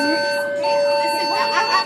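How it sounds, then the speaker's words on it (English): A hospital fire alarm sounds at Alberta Children's Hospital in Calgary, a steady electronic tone with sustained pitched pulses running throughout, while people talk nearby over the top of it. "Listen, the fire alarm is going off"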